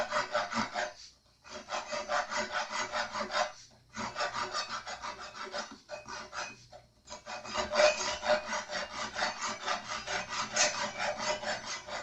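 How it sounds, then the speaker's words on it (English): Hand saw cutting off wooden knobs in a strap button repair, close rhythmic rasping strokes in several bursts separated by short pauses, no talking. "Let the saw do the work. And cut off the knobs."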